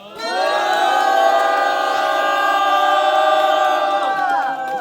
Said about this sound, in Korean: 23번째 우리가 나무다 힘찬 함성과 박수로 시작하도록 하겠습니다. 함성 시작!